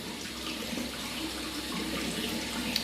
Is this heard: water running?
yes